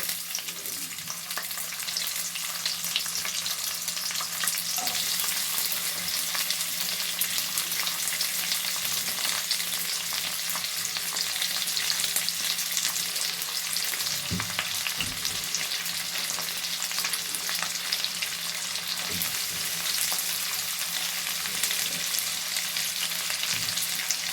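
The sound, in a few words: bitter gourd frying in oil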